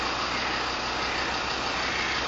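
Engine on a Falcon diamond coring trailer running at a steady, constant drone, loud and close, with no talking.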